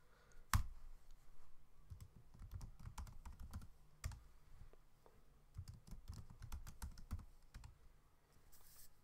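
Someone types a terminal command on a computer keyboard, a quick run of crisp key clicks with one sharp louder tap early on and scattered bursts of keystrokes afterward, close and clear in a quiet room.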